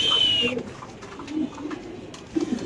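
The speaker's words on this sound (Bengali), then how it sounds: "ঘরের বাচ্চা স্প্যানিশ কবুতর" Home-bred Spanish pigeons coo softly and briefly at close range, with a short whistle-like tone at the start and faint background noise.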